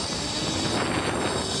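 Electric bike pulling away from about 10 mph at full throttle, a steady broadband roar and whoosh of motor and rushing wind that holds level and loud through the moment without any voices.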